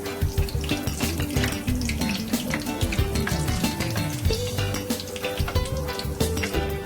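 Shrimp patties (buñelos uhang) fry in hot oil with a dense, continuous sizzle and crackle, close and fairly loud, with occasional faint clinks of cookware.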